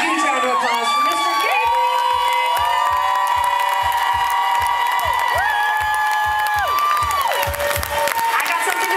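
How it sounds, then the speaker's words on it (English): A concert crowd at an outdoor music show cheers, whoops and claps loudly for a band member, with piercing shouts and a regular low beat running underneath the continuous roar. "Would you give a huge round of applause for Mr."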